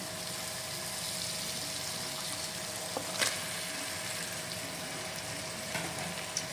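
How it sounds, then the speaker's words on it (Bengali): Marinated mutton sizzling in oil-rich spice masala for a Bengali mutton curry, a steady close frying hiss with a couple of brief clinks from a utensil, no talking. "এখন সময় হয়ে গেছে ম্যারিনেট করা মাংসগুলো দিয়ে নেওয়ার"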